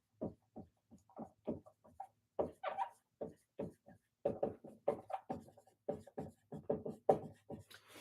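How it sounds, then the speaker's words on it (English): A marker writes on a classroom board in quick, clicking, squeaky strokes, a steady run of short taps and scratches close by, with no talking over it. "So let me write that for your benefits."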